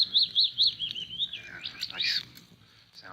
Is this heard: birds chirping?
yes